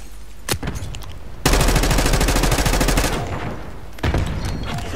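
Gunfire rattles toward a priority target in a Call of Duty Black Ops 6 multiplayer match: a brief shot, then a loud sustained automatic burst lasting over a second and a half, with another burst starting near the end.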